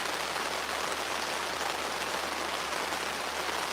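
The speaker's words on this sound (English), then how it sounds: "Legit, this is the hardest it's rained." Heavy rain pounding on a canopy over a fishing spot, a dense, unbroken roar that stays loud and even throughout, with no voices.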